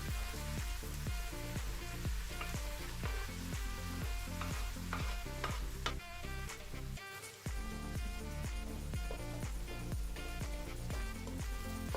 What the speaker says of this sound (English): Fry the okra and the remaining onions.